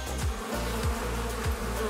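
Steady, dense buzzing of many bees close by, with a low drone that swells in soft regular pulses.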